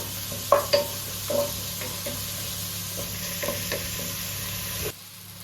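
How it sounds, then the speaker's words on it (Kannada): Ground tomato paste fries in a pan for paneer kolhapuri, giving a steady close sizzle with a few louder spoon stirs and scrapes early on, ending abruptly near the close. "ಈಗ ರುಬ್ಬಿಕೊಂಡಂಥ ಟೊಮೊಟೊ ಪೇಸ್ಟನ್ನು ಹಾಕ್ತಾ ಇದ್ದೇನೆ. ಇದು ಒಳ್ಳೆ ಫ್ರೈ ಮಾಡಬೇಕು."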